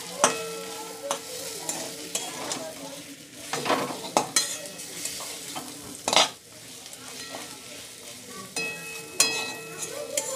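Capsicum stirred and frying in a pan for a vegetarian shahi mix paneer dish gives a steady sizzle, with a utensil scraping and clinking against the pan at irregular moments.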